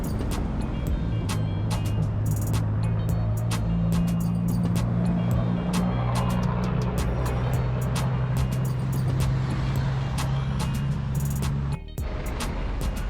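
Car engine idling and rumbling close beside a bicycle on a Thai street, a steady low drone with sharp clicks and ticks on top and no talk.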